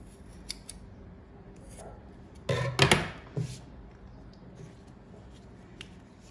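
Scissors snip craft material for a handmade fabric doll built from a plastic lid and egg carton, a few close, sharp cuts clustered together with quiet handling noises around them.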